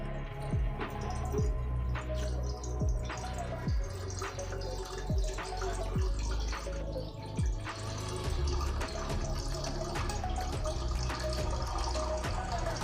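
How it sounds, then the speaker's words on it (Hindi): Water pours steadily and loudly into a cooking pot in a home kitchen, filling it for steaming chicken, with a continuous splashing rush and dripping close by. "मैं अब इसमें जो है ना पानी डालती हूँ।"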